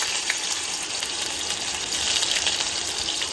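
Paneer cubes fry in a pan of palak gravy, giving a steady, dense sizzle that holds evenly throughout at close range, with no voices.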